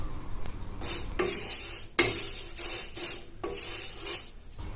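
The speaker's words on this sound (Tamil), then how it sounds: "அதே பேன்ல 2 கப் அளவு சேமியா எடுத்து வறுத்து எடுத்துக்கலாம்" Vermicelli dry-roasting in a pan over low flame, stirred in repeated scraping strokes with a sharp clatter near the middle, close and moderately loud, with no voices.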